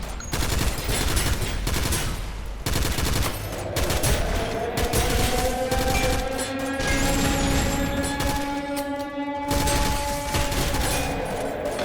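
Sustained LMG machine-gun fire in a video game, loud and dense with rapid bursts throughout and layered game effects and tones in the background, no voices.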